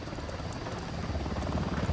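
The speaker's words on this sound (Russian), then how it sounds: "Приближается вертушка." Helicopter in the video game Ghost Recon Wildlands, a steady rotor drone that grows slightly louder over two seconds as it closes in, alone without speech.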